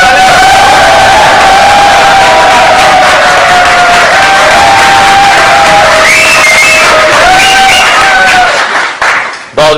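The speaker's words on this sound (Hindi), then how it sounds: "सखावत नाज के लिए जोरदार तालियां" A studio audience at a Hindi-language cricket comedy show claps, cheers and whoops loudly for nearly ten seconds, with a sustained tonal line running beneath the crowd noise before it cuts off abruptly.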